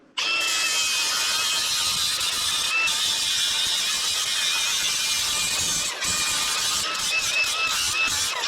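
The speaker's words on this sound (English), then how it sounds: "I'm gonna start taking this powder coat off. It kind of hurts, but I'm gonna have to do it. I'm using a flap disc." Angle grinder fitted with a flap disc stripping powder coat off a Yamaha YXZ steel frame, a loud, steady high-pitched whine running nearly continuously with a few brief dips as the disc lifts off the metal.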